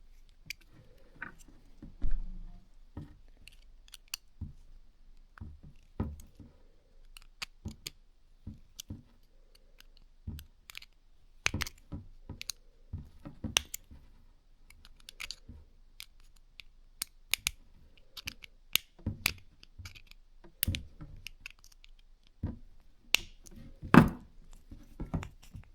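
A cable connector on an air compressor auto drain valve is tightened by hand, giving irregular close clicks, ticks and small plastic and metal knocks throughout, with no speech.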